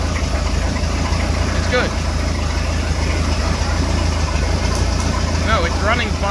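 One-of-a-kind speed boat engine idling, a loud steady low rumble with an even throb throughout, while people talk briefly over it.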